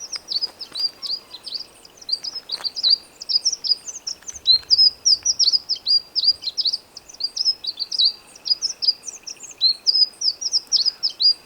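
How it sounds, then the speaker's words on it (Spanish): A moustached flowerpiercer calls repeatedly from a mixed flock, giving rapid high thin chirps and twitters in a near-continuous run over a quiet background. "Estoy intentando traer cerca de donde estoy al pinchaflor de bigotes. Es un pájaro muy bonito"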